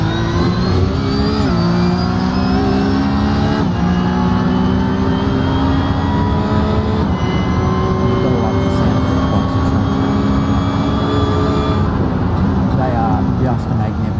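Porsche Cup race car at Sebring from the onboard camera in a racing video game, a loud continuous engine whine rising and falling through gear shifts and corners, with commentary talking over it.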